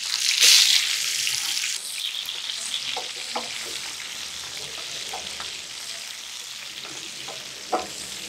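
Capsicum frying in oil for prawns Manchurian, opening with a sharp hiss as it hits the pan, then a steady close sizzle with occasional stirring clicks.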